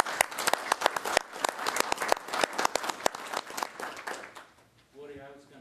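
An audience at a public meeting bursts into dense, steady clapping for several seconds that gradually thins out, then a voice speaks near the end.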